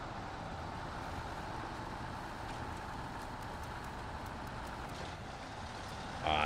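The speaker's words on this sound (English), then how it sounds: "Oh, I forgot this truck does this goddamn awful sound" Truck engine in a PS5 driving game on a muddy route, a steady rumbling drone throughout with a brief louder burst at the very end.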